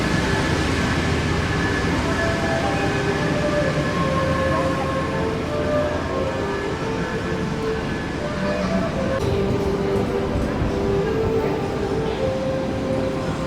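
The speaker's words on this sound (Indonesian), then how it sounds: "ada kereta api Argo Anjasmoro masuk guys" The Argo Anjasmoro passenger train, running from Surabaya Pasar Turi to Gambir, pulls into a station with a continuous loud rumble and squealing wheel and brake tones that hold steady throughout.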